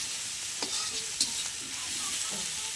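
Garlic and ginger fry in a hot pan with a bright, continuous sizzle and hiss. Soft stirring scrapes sound now and then underneath.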